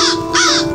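A crow's caw sounds in a Hindi nursery rhyme about animal sounds: two quick, harsh, loud calls over a steady musical tone, likely a sound effect or vocal imitation.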